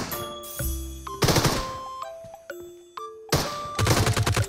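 Bursts of gunfire from Peacekeeper Elite (PUBG Mobile) played on a smartwatch, rapid crackling shots in short volleys mixed with game chimes and tones, with no voices.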